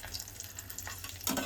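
A rice papad is turned and sautéed in a hot pan, giving a steady close sizzle with a louder scrape or stir near the end, no voices.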